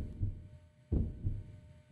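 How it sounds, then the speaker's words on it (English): A low, throbbing heartbeat from the horror video game Ao Oni 2, pulsing in paired thumps roughly once a second, steady and alone over a faint background hum. "Oh, is that my heartbeat?"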